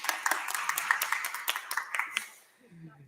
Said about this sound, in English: Let's all give Isaac a round of applause.